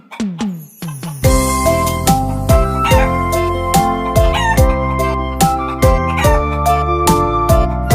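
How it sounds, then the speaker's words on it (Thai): Chicken clucks and a rooster crow set in a children's song, repeated sharp bird calls over a loud, steady musical backing that carries through to the end. "ไก่กุ๊กกุ๊"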